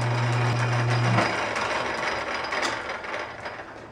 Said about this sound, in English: The lathe is on.